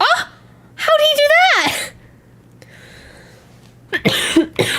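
A person coughs during a casual Christmas chat stream, with short harsh bursts near the end following loud voiced exclamations and quieter background sound.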